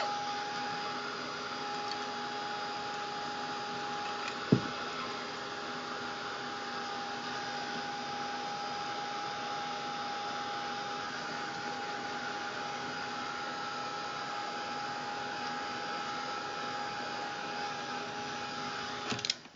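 A handheld hair dryer runs steadily while drying wet paint on a craft piece, a continuous whirring blow held at a constant level throughout, with one brief knock partway through and a small click near the end.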